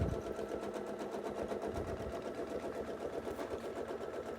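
A sewing machine runs continuously while free-motion quilting with rulers, a steady, fairly quiet rhythmic whir of needle strokes with no speech over it.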